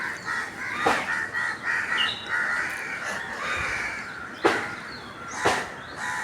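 Crows caw repeatedly near a nest in a Konkan cashew and mango orchard, harsh calls rising over a steady background chorus of other birds, with a couple of sharper, louder caws near the end.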